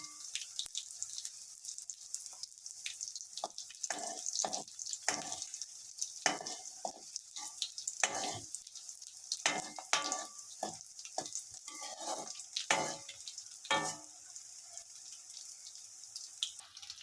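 Mustard seeds sizzle and crackle in hot oil alongside frying chillies, with a steady faint hiss broken by frequent stirring scrapes and small pops, close but quiet.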